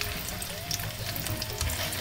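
A pork chop fries in a pan over medium heat, a steady dense sizzle and crackle holding even and close for the whole stretch, with no voices over it.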